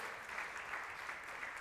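Steady applause from a church congregation during a Sunday service, a dense even patter of many hands clapping at moderate distance with no voices over it.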